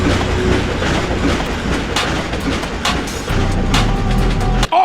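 A train in the video game Ratchet & Clank rumbles along with loud, continuous rolling and rhythmic clickety-clack of wheels on rails, punctuated by metallic clanks, ending abruptly.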